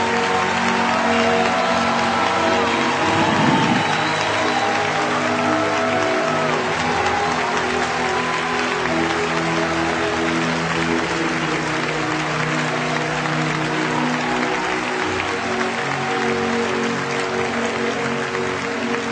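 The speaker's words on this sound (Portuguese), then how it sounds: "Aplauda mais forte, mais forte" A church congregation at a prophetic conference claps loudly and continuously, a dense roar of hands over a low musical backdrop that holds steady for the whole stretch, with a few faint voices mixed in.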